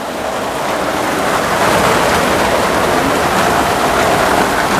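Heavy rain pours steadily outside a village kitchen, a loud, dense hiss that swells slightly and then holds constant throughout, with no voices over it.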